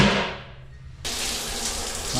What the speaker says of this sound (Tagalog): Mag-shower muna tayo.